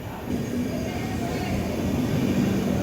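A long train with big carriages rumbles past near a railway junction, a steady, loud rolling drone with a faint voice underneath.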